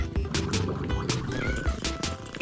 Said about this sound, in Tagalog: Why do cats purr?